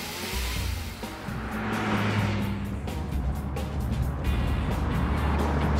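A Nissan GT-R sports car drives along, its engine a steady, fairly loud broadband rumble with road and tire noise, building slightly as it gets under way.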